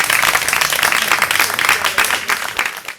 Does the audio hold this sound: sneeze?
no